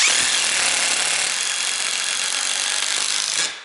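A Dewalt DCF885 XR 18V cordless impact driver drives a 6 by 60 screw, giving one loud, close, continuous hammering whir that holds steady for about three seconds and then cuts off, with no talking.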